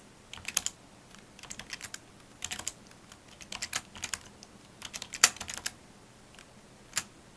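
Keys clatter on a computer keyboard as code is typed for a programming lab, irregular bursts of close, crisp clicks with short pauses, no talking.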